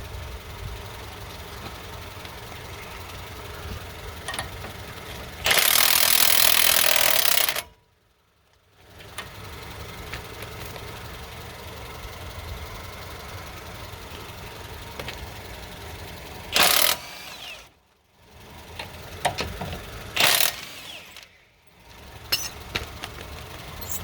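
Power tools remove brake caliper bolts on a Chevy Suburban front brake, with a loud burst of impact-style rattling followed by shorter, sharper bursts over a steady engine-like hum and brief silent pauses.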